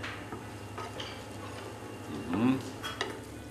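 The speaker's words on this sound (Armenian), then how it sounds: "կարագը թույլ կրակով բացում ենք ալյուրի հետ" A butter and flour roux cooking on low heat in a pan, with soft sizzling and the scrape and clink of a utensil stirring against the pot, close and moderately quiet.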